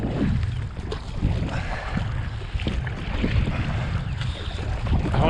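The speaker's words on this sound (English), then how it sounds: "I wonder how fast I can go paddling." Boat on open water with steady broadband wash and wind buffeting the microphone, soft splashing strokes recurring throughout.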